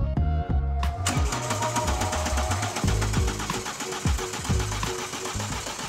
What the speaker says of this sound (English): Let's crank the engine to see the status.